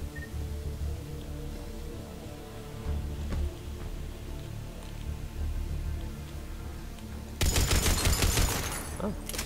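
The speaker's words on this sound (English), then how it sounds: "If gunfire doesn't put them on notice" Gunfire in the Mass Effect 3 video game: a low game ambience carries a few scattered distant shots, then a loud burst of rapid fire erupts near the end.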